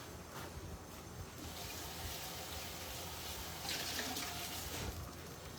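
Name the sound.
rinsing paneer under running tap water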